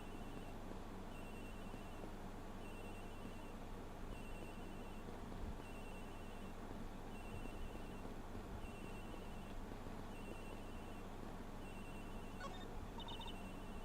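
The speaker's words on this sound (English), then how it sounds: "Agent Hicks's phone. It's ringing from somewhere, sir." A cell phone rings in a detective video game, a faint electronic ringtone repeating in short regular bursts over a steady background hum.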